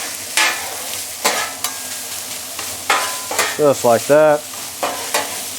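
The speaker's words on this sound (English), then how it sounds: "after stir frying this up just a little bit" Hibachi rice being stir fried on a Blackstone griddle, giving a steady close sizzle with scraping and tossing strokes, while someone speaks briefly over it.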